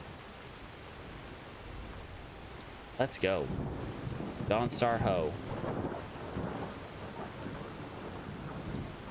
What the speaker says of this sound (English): Do not like this rain because I feel like it's really muffling any other sounds